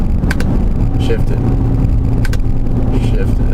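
A 2018 Ford Explorer Sport SUV engine drones low and loud, rising as it accelerates with a brief shift in pitch, all without any talk.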